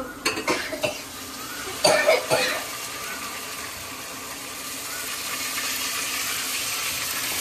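Boti (tripe) dropped into a cooking pot and stirred, with a few sharp clatters and wet splashes early on, then a steady sizzling hiss that continues to the end.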